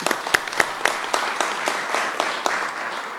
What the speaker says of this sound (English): So a round of applause for Chief Altgeld